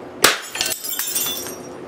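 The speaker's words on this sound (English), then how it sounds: "And again we got the rewarding sound of shattering glass." A 60 watt incandescent bulb with a burnt-out filament shatters from a capacitor bank discharge: one sharp, loud crack followed by a spray of tinkling glass fragments settling nearby.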